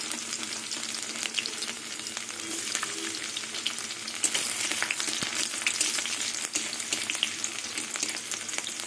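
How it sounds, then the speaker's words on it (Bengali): Chopped garlic frying in oil in a pan, a steady close sizzle and crackle with occasional stirring scrapes, no voices. "রসুন ভেজে নেব, পুরো লাল করে ভাজবো না, রসুনের কাঁচা গন্ধটা চলে যাওয়া অবধি ভাজবো।"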